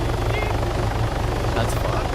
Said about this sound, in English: in a helicopter.